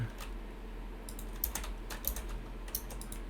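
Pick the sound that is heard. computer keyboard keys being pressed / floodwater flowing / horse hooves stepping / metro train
computer keyboard keys being pressed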